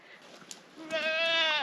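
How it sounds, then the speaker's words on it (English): A single goat on an off-grid farm lets out a clear, wavering bleat that rises out of quiet background noise at close range. "they're very demanding too, these goats."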